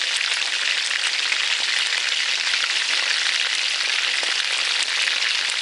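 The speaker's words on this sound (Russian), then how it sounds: "Вот так они у меня обжариваются в масле." Cabbage rolls fry in oil in a pan, giving a steady, dense sizzle with fine crackling that holds evenly from start to finish, close up and with no voices.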